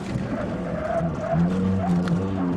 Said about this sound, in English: Feel that ABS cackle.